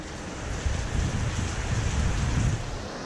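Steady rain falls outdoors on a windy day, a constant dense hiss with low rumbling gusts of wind throughout, no voices.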